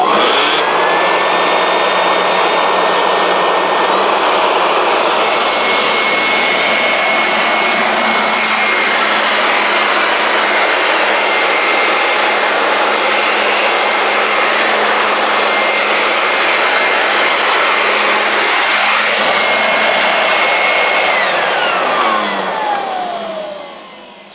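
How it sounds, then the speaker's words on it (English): A lightweight, inexpensive electric leaf blower runs at its low speed setting, giving a loud, close, steady whirring rush with a whining tone that holds throughout and eases off briefly twice, with no one speaking. "On this blower, you have two speeds. You have low speed,"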